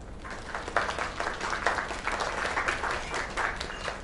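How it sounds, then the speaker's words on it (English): An audience claps in steady, fairly loud applause that holds throughout the few seconds without talk over it. "Another round of applause."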